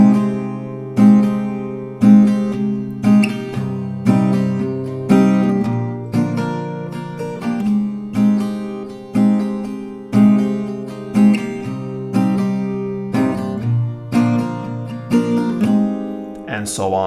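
Acoustic guitar strummed in a steady rhythmic pattern, regular chord strokes about every second with down-up accents, close and clear, played alone for the whole stretch.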